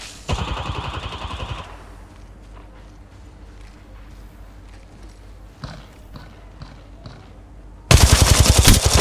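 Rapid automatic gunfire from the mobile shooter game Apex Legends Mobile, with a dense burst near the start and another loud burst at the end, separated by quieter game ambience.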